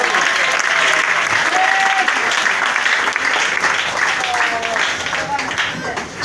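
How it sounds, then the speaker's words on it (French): Sustained applause and cheering from a church congregation at an evening vigil, a dense steady roar of clapping with scattered shouts and voices mixed in throughout. "Est-ce que tu peux l'acclamer ce soir?"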